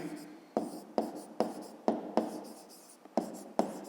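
Pen writing on paper during a fifth-grade maths exercise, heard as close, crisp scratching in short strokes with about eight sharp taps at a steady, regular pace.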